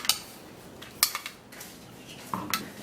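A spoon stirs a thick mixture in a pot, with a few sharp metallic clinks against the side, close up, separated by quieter scraping, and no talking.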